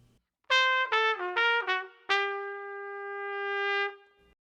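A solo trumpet plays a short jazz phrase in bebop style, quick articulated notes with some lower ones softened, ending on a held note that swells and then cuts off, close and unaccompanied.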